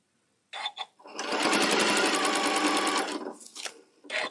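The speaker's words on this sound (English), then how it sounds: "We're just sewing from crease to crease." A sewing machine stitches a table runner seam between crease marks, running in a steady fast whir for about two seconds after a few short starts, then stopping with soft handling clicks and rustles of fabric.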